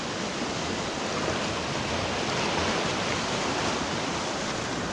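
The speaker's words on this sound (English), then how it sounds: "fairly decent waves coming in." Fairly decent waves rolling in on a shore during spring tides. A dense, continuous wash of surf stays loud and close, a steady roar with no talk.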